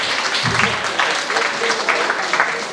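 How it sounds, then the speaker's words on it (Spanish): An audience at a lecture applauds a veterinarian being introduced, with steady, moderately loud clapping for nearly three seconds. A few voices sound briefly under it. "Un aplauso para el doctor."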